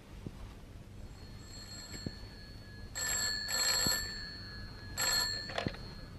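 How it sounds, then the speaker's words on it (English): Telephone ringing as a sound effect in a radio drama: bursts of bright electric bell ringing in a double-ring pattern, the second pair after a short pause, fairly near and clear over a quiet room with faint knocks and no talk. "Almost at once, the telephone rang."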